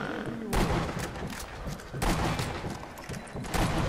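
Sniper rifle fire aimed at a tank in Sniper Elite V2, with loud broadband blasts at about half a second and two seconds, followed by rumbling game battle noise and further bursts.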